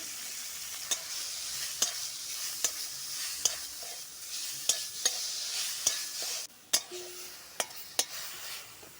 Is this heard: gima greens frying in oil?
yes